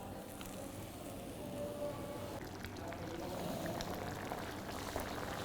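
Tomato gravy for Delhi-style butter chicken simmering in a pan over a medium flame, a quiet, steady bubbling and gentle sizzle that continues throughout with no one speaking.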